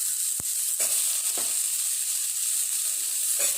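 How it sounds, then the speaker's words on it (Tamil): Onion and tomato sizzle and hiss steadily in oil in a pan, loud and close, with a few soft clinks and scrapes of stirring now and then. "வெங்காயம் தக்காளி எண்ணெயிலேயே நல்லா வதக்கி விட்டுருவோம்"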